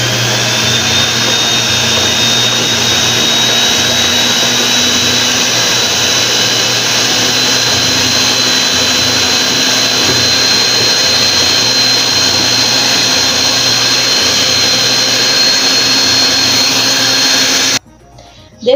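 Electric mixer beating corn cake batter of flocão, milho flakes and sugar, a steady loud whirring drone running nearly unbroken, then cutting off abruptly near the end.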